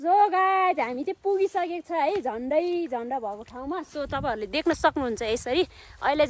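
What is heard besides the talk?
None of the usual background noises is heard.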